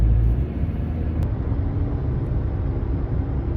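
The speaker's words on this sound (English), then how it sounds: "Interesting, driving through the fog right now." Inside a car driving through foggy morning traffic, a steady low road rumble and engine drone fills the cabin evenly, with no talk and no distinct passing sounds.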